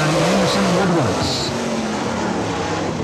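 A Masters Built Pontiac Grand Prix dirt late model with a Race Tech engine on a qualifying lap at Atomic Speedway, engine roaring and pitching down as it passes, under a track announcer's steady commentary.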